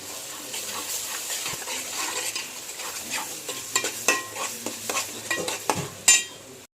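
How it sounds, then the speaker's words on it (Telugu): Ginger-garlic paste stirred into a sizzling fish curry base in a pan, a steady frying hiss broken by repeated scraping strokes of a spoon and one sharp clink near the end. "ఈ స్పూన్తో ఫుల్ స్పూన్ అల్లం వెల్లిపాయ వేసుకోండి. వేసేసుకొని మొత్తం మిక్స్ అయ్యేటట్టు తిప్పండి."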